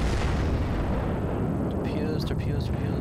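Booming torpedo explosions rumble in a World of Warships naval battle, a dense, loud wall of low blasts and crackle that never lets up, with a voice talking over the din.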